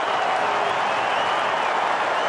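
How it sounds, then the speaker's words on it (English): Essendon Bombers fans at Etihad Stadium during an AFL match clap and cheer in a dense, loud, continuous wash of applause filling the stadium, with no clear voices standing out. "as they stand and applaud and wave and jiggle"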